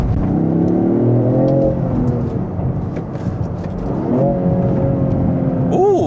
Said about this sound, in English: Got some burbles I hear.